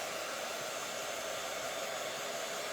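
A hair dryer blows steadily while drying a painted board, a constant close rushing whir with no breaks and no voices.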